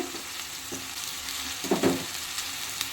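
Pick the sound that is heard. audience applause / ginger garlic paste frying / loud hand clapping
ginger garlic paste frying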